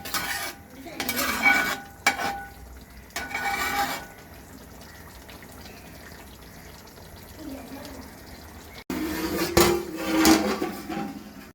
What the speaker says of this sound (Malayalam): ഇവിടെ ഏത്തക്കായ ഇട്ടിട്ടുണ്ട് അത് നന്നായിട്ട് ഇളക്കി കൊടുക്കാം